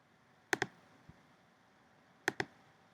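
Computer mouse buttons clicking at a desk, quiet and close: two quick double-clicks about two seconds apart, with one fainter tap between them and no voices.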